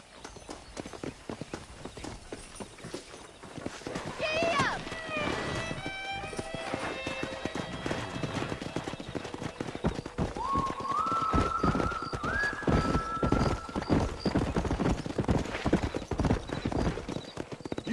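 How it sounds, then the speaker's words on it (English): Wild horses gallop in a Red Dead Redemption game scene, with rapid, continuous hoofbeats close by. Several loud, drawn-out neighs and whinnies rise over the running, one early on and a longer one midway. "That ranch hand said there's a pack of wild horses nearby."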